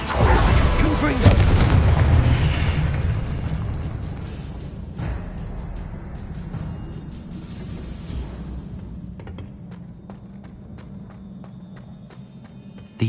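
The Confringo spell in Hogwarts Legacy on PS5 lands as a loud explosive boom that fades into a long rumbling decay, with a few faint clicks afterward.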